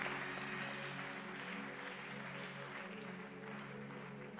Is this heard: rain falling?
no